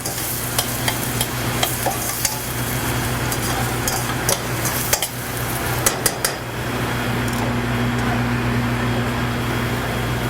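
Ackee sautéing in a pan for a smoked salmon vol-au-vent filling, a steady sizzle under scraping stirs and clinks of a utensil against the pan, with a low appliance hum throughout and no talk.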